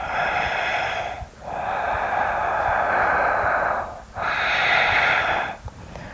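Slow, deep breathing during a gentle yoga session: three long, airy breaths, each lasting a few seconds with brief pauses between, close and fairly loud.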